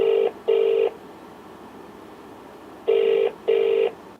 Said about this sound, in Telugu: మీ అనుమతితో మేఘనకి కాల్ చేయబోతున్నాను.